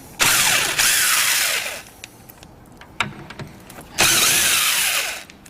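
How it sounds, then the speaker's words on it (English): An impact wrench undoes the mirror bolts on a Mitsubishi Pajero, two loud close bursts of rapid hammering, each about a second and a half long, with quiet clicks and handling between them. "I'm going to use a little rattle gun"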